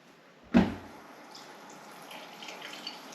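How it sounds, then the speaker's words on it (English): Water from a tap pours onto a waterproof glove, starting with a sudden splash and settling into a steady, close running-water hiss with faint droplet patter. "I'm basically going to run a tap and put my hand underneath the tap"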